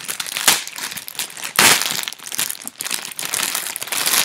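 Plastic packaging of a My Trendy Maternity belly band being opened up close, with continuous crinkling and crumpling and two louder rustling bursts, no talk.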